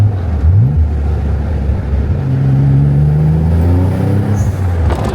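A Nissan 300ZX twin-turbo engine rumbles and revs up, its pitch climbing in steady steps, loud and close with no talking.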